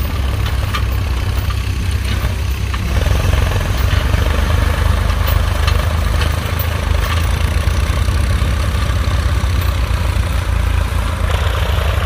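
A Ford 4000 four-wheel-drive tractor's 3.3-litre three-cylinder, 55 HP diesel engine runs while plowing with newly fitted discs, a steady, loud, low rumbling drone that holds without a break.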